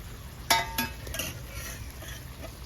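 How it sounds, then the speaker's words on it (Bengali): Fried prawns tipped into a pan of poppy-seed curry on a village-style stove, with a few sharp clanks of a utensil against the metal pan followed by softer stirring scrapes over a faint background hiss. "ভাজা মাছগুলো ফেলে দিচ্ছি"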